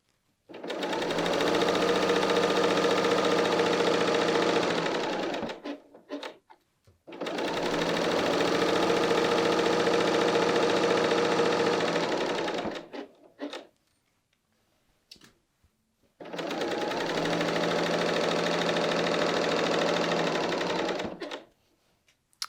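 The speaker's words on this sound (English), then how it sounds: "sewing along the side seam" A BERNINA L 890 sewing machine stitches the side seam of a knit dress in three steady bursts of several seconds each, with short pauses between, close and clear with no talk.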